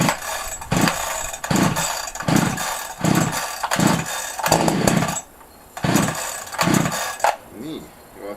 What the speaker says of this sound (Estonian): Saag lukku, vaatame, mitu tõmmet tuleb teha.